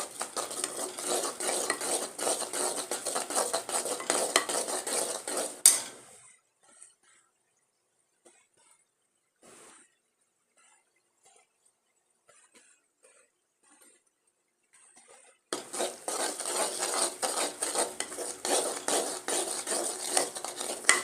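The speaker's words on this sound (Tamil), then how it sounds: "கடலை மாவு சேர்க்க போகிறேன் எல்லாத்தையும் ஒரே இடத்துல சேர்க்கக்கூடாது கொஞ்சம் கொஞ்சமாக சேர்க்கணும்" Metal spoon scraping and stirring multigrain flour roasting in ghee in a pan with a soft sizzle, then a long quiet pause with faint clinks, before brisk stirring resumes.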